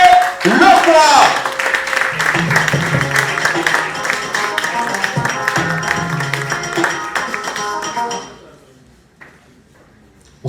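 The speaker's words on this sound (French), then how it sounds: "Est-ce qu'on peut applaudir très fort quand Hervé Lokwa fait son entrée" A comedy club audience claps and cheers as a comedian makes his entrance, loud sustained applause filling the room for about eight seconds before fading into a quiet pause.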